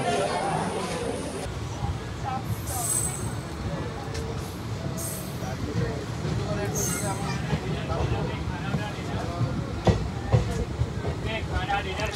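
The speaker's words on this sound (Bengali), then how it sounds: "ঠিক টাইমে চলে এসেছে হরিশ্চন্দ্রপুর ট্রেনটা।" The Teesta Torsha Express, a passenger train, rumbles steadily past near Harishchandrapur, a continuous rolling rail noise with occasional brief squeals and murmured chatter in the background.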